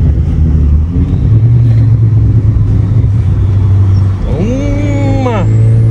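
A Yamaha XT660 motorcycle engine runs loud and close, its steady drone rising and falling as it revs through gear changes, with a sweeping pitch climb near the end.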